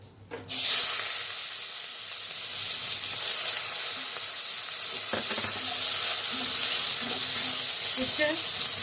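Black cumin seeds and chopped onion drop into hot mustard oil with a sudden loud sizzle that settles into a steady, close frying hiss.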